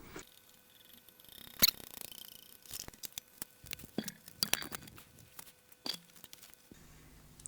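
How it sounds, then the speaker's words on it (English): Tape being wound by hand out of the transport of a faulty Sony J3 professional video player, a sparse run of small plastic clicks, rustles and mechanical ticks, close and fairly quiet, with no talking. "I think I should be able to just wind the tape out."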